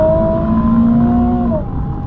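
A 2017 Nissan 370Z Nismo sports car engine holds a loud, steady high rev with a whining tone, then drops in pitch as the revs fall away near the end.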